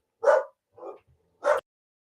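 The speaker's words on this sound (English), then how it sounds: "I have barking dog to attend to" Three short barks from a dog nearby, spaced apart with quiet gaps between them, the middle one softer.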